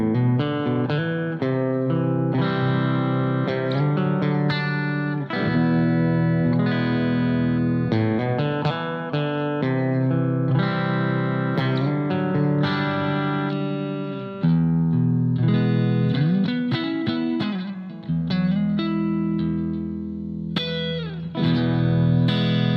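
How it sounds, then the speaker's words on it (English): A Blackstar ID Core V3 guitar amp on its clean warm preset with plate reverb rings out with chords and single notes, full and sustained, with reverb tails between phrases. "dynamic classic clean with a plate reverb"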